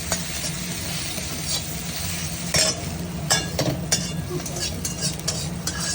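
An egg fries in a pan with oil while being stirred, giving a soft sizzle with scraping and clinking of the utensil, a few sharper knocks near the end, and faint background hum.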